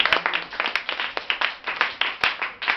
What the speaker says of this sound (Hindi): ताली बजाओ जरा इस बच्चे के।